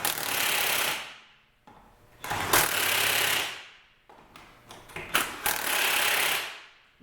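An impact wrench fitted with a torque stick drives lug nuts in a star pattern. It makes long buzzing runs that fade out, with sharp rattling hammer bursts as each nut tightens. The sound is close and repeats about three times.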